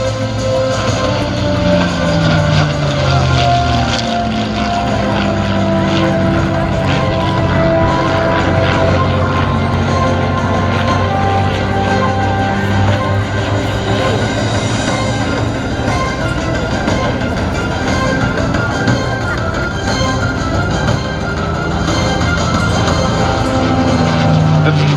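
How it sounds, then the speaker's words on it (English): P-51C Mustang propeller fighter flying at the Columbus Air Show: a continuous engine drone that rises and shifts in pitch as it passes, steady and moderately loud in the open air. "the P-51C Mustang by request."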